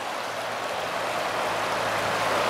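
Clear Creek near Rollinsville, Colorado runs at high water, a steady broad rushing wash of flowing water heard close by with no other sounds.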